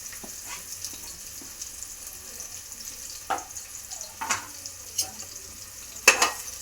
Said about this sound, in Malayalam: നമുക്ക് ഉള്ളി ഇട്ട് കൊടുക്കാം കേട്ടോ സവാളയാണ്